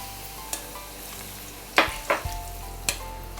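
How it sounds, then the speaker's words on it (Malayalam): Small cut papadam pieces frying in hot oil in an iron pan, a steady low sizzle broken by a few sharp crackling bursts and clinks, close and fairly loud. "ഇതുപോലെ വറുത്ത് കോരാം."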